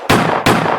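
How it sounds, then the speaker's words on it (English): Two loud, close gunshots crack in quick succession, each a sharp blast with a short ringing decay, with nothing else heard. "Gunshots!"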